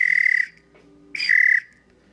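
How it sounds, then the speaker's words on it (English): A BLAM whistle sound effect plays on a stream: two clear sustained whistle tones separated by a short gap, loud and clean over near silence. "You get a BLAM whistle for that."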